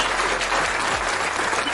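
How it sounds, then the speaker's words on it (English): Applause for Super Dave breaks out, a dense, steady wash of clapping that holds at an even level for the whole stretch, with no talking over it. "Let's give Super Dave a round of applause"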